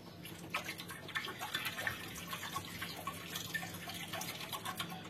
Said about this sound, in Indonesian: terdengar seperti ada airnya di dalamnya, seperti ada gojakan airnya